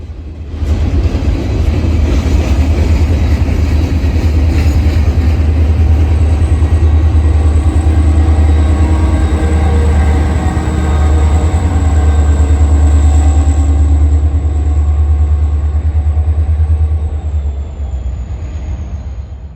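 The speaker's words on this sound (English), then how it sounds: "Amtrak 74 didn't take long to get through Landis and head north towards the station stop at Salisbury." Amtrak 74 passenger train rolling through Landis heading north, a loud, close, continuous rumble with rail clatter and a faint high horn or wheel whine that fades near the end.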